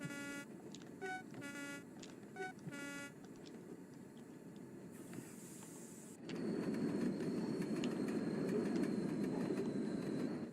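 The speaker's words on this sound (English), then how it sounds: "this locomotive looks like it's going very fast at 30 miles per hour" A locomotive in Train Sim World 2 rumbles along with a steady mechanical drone, while a series of repeated horn-like tones sounds early on, and the engine noise swells louder after about six seconds.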